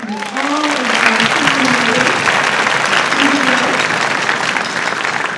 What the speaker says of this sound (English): can give him a round of applause